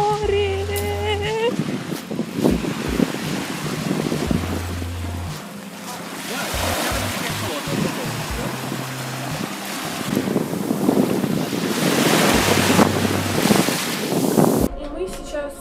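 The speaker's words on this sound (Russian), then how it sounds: "Море!" Sea waves and wind on the Odessa coast, a rough continuous wash with gusty microphone buffeting and music-like tones, people talking over it at times.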